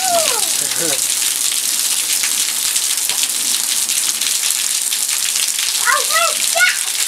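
Rain falls steadily on outdoor surfaces in a constant close hiss, with brief bursts of a voice near the start and again toward the end.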